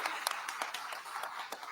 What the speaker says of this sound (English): A round of applause for that amazing statement.